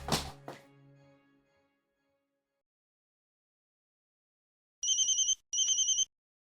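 A telephone rings twice in short electronic trills after a thud and a brief fading resonance, the room otherwise quiet.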